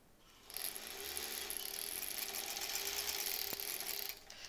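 A home sewing machine runs in a steady, faint mechanical whir and clatter for about four seconds, starting up and then cutting off.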